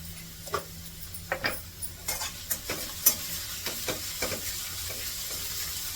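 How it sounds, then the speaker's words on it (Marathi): Scattered stirring scrapes and soft clicks of a spoon in a pan over a faint steady sizzle of spices tempering in hot oil, with no voices. "पुड्याची फोडणीमध्ये जरा परतून घ्यायची एक मिनिटभर"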